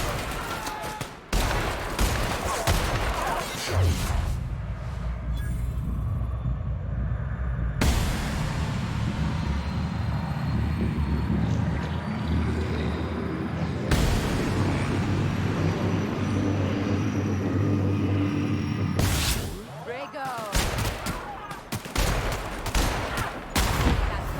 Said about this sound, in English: Since he walks past that, I'll blow that up. Opening fire!